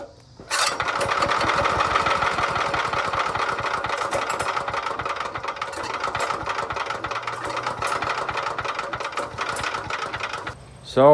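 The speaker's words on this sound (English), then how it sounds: "when the engine actually runs, it sounds pretty good" A small engine on a yellow machine under repair starts up and runs at a steady, rapid putter for about ten seconds before cutting off, loud and close.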